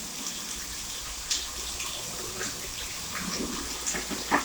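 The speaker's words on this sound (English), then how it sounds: "let me just add a little water to that" Water poured into a cooking pot, a soft splashing gush with small bursts, faint and fairly close, and no talking.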